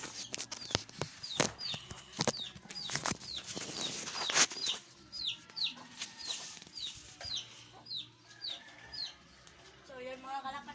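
Pigeons flap their wings in a burst of clattering wingbeats early on, followed by softer cooing and rustling calls, fairly close, with faint voices in the background.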